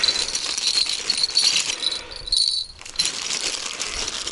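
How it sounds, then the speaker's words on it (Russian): Small bells jingle and rattle in quick, uneven bursts, close by, pausing briefly midway before jangling again. "Берем бубенчики"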